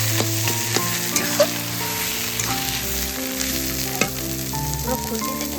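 Banana stem (thor) frying in oil in a pan while being stirred, with a dense, steady sizzle, crackling bursts and occasional spoon scrapes, loud and close, and a faint tonal hum running beneath.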